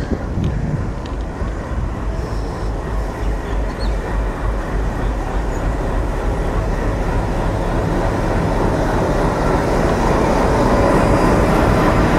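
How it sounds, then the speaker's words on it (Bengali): An Indian-built WDM 3D diesel locomotive, number 6541, backs onto a Bangladeshi intercity express at Khulna to be coupled. It makes a loud, continuous heavy rumble up close, with no distinct coupling clank standing out. "আর এই লোকোমোটিভকে এখন আমাদের ট্রেনের সাথে সংযুক্ত করা হবে।"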